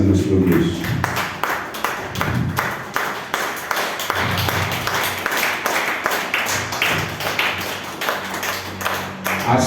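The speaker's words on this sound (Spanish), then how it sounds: "Denle una ofrenda de palmas a nuestro Dios." A church congregation claps hands as an offering to God during a sermon, a dense burst of sharp claps that comes in rhythmic waves, with cheering voices mixed in.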